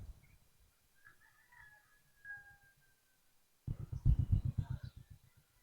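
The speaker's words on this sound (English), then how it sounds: "I just heard the rooster." A faint, distant rooster crow rises over quiet background, followed by a louder burst of close talking.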